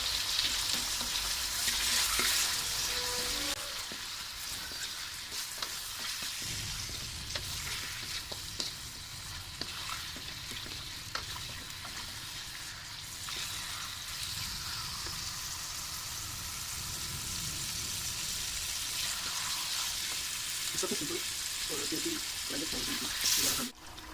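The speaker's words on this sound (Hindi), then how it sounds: "अब इसको थोड़ा सा फ्राई करेंगे।" Mutton sizzles and fries in a pan with ginger, garlic, cumin and salt, a steady close crackle broken by stirring clatter and a brief run of water, with a voice talking over parts of it.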